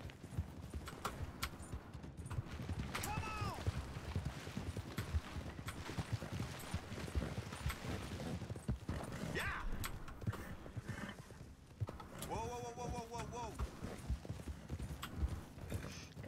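Horse hooves clip-clopping at a gallop in Red Dead Redemption 2, steady and close, with occasional whinnies and snorts.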